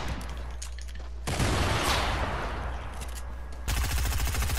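Fortnite gunfire in dense, sustained bursts of rapid automatic shots, loud and close, broken by a brief lull before a fresh volley starts, with no talking over it.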